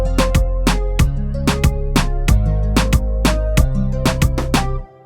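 A beat built on a Maschine Plus from a nylon-string guitar sample pounds out a steady rhythm of punchy kicks and crisp snare or hat hits over looping guitar notes, loud and upfront with no talking, ending abruptly.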